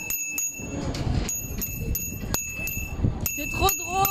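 Children ringing bicycle bells at a contemporary art funfair: repeated sharp metallic dings with ringing tones, scattered across a busy outdoor background with voices nearby.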